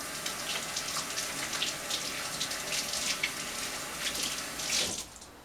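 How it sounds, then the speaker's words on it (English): Tap water runs steadily into a kitchen sink while hands are rinsed after baking chocolate brown sugar brownies, a continuous close splashing hiss that cuts off abruptly near the end. "So I'm going to rinse my hands quickly"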